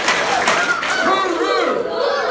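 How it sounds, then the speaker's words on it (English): An audience at Spectrum College Colombo clapping in unison and shouting a loud group cry together, a dense crowd roar that stays steady throughout. "When I say 3, we'll clap 3 times, and as loud as we can, we'll say, hooroo."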